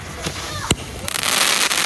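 Z121 fireworks at a Tet 2025 celebration: loud booming bursts with one sharp bang, then a dense roll of crackling explosions, with voices faintly in the background.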